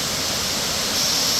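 McCloud Middle waterfall in McCloud, California, a 50 to 70 foot drop, roars as a steady, loud broadband rush of falling water heard close up and alone.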